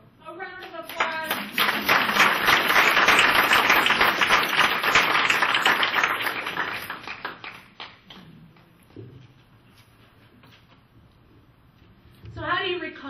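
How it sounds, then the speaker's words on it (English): A live audience at a Christian service ministry gathering bursts into loud, dense applause that holds for several seconds, then thins and fades, with a voice heard briefly before and after. "A round of applause."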